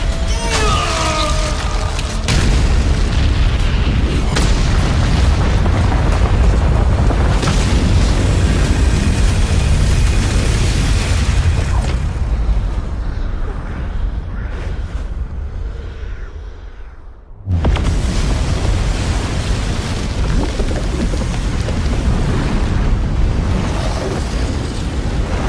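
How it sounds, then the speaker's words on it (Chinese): A massive explosion erupts in the animated series Swallowed Star as a loud, sustained roaring blast that rumbles on for many seconds. It briefly drops out near the end, then the roar surges back. "难道他有自信在这最强爆炸中存活？"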